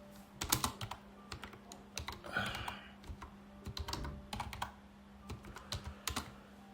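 Keys clatter steadily on a computer keyboard in irregular bursts of clicks, moderately close and alone, with a faint steady hum underneath.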